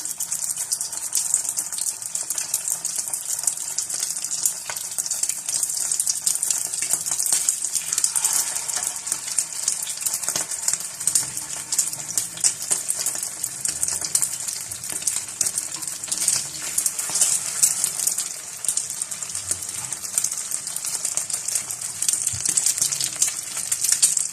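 Chicken and potato cutlets frying in a shallow layer of oil give off a steady, bright hiss and sizzle, continuous and fairly loud throughout with small crackling pops and no talking.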